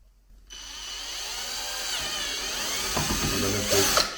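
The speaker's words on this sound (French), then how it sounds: "Donc je fais mon premier trou. J'y vais doucement pour pas casser" A drill bores a first rivet hole slowly while a horse-riding suitcase is built, producing a close, steady high whine that rises and wavers over a few seconds, with faint rattling toward the end.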